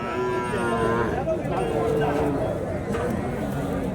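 Calves at a cattle market low and moo several times in close succession, amid busy crowd chatter and people talking nearby.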